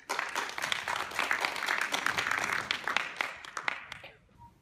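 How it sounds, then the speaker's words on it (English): An audience applauds at a conference talk, a dense burst of clapping that holds steady for a few seconds, then thins and fades out. "let's give him a round of applause"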